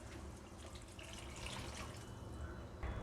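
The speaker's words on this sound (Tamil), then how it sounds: "தேவையான அளவு தண்ணி ஊற்றிருக்கேன்." Water pours into a cooking pot while a Tamil brinjal kara kuzhambu with tamarind is being made, a quiet, continuous splashing trickle close by that rises slightly near the end.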